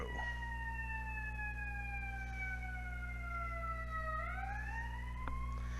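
A siren wails in a long, slow falling tone that swoops back upward, passing at a moderate distance over a low steady hum.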